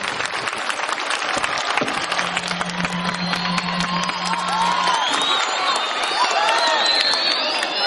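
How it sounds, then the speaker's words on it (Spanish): An audience applauds a speaker at a peace event, with dense sustained clapping, some cheers and whoops, and a voice talking over the crowd. "Un fuerte aplauso para el doctor Luis Canseco"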